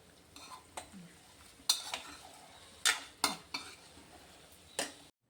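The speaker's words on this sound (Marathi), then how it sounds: "घातलेले सगळे घटक आपल्याला छान परतून घ्यायचे आहेत." A spoon stirs and sautés spices with onion and garlic in a pan, sharp scattered clinks and scrapes against the metal over a faint sizzle, close and fairly quiet.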